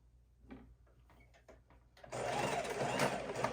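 A sewing machine back stitching across a fabric bowl cozy: a few soft handling taps and clicks, then the motor kicks in with a loud, steady close whir that runs to the end.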